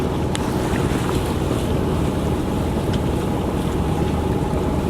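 A Dana 24 sailboat motor sailing on open water, with a steady broadband wash of water, wind and a low engine drone that holds constant throughout, no talking.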